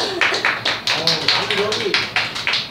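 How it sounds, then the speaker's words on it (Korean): Applause from a small group at a Korean grilled beef tripe restaurant, a quick run of sharp claps repeating steadily for a few seconds, close and fairly loud, with people talking and laughing over it. "여러분 박수 한 번 해주세요."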